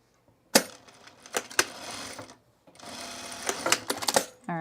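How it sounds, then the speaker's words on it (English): A sewing machine stitches the ends of a shirt cuff in two close, rapid mechanical bursts, each a busy run of needle clatter separated by a short pause, with no one talking. "I'm just resewing the ends of my cuff here."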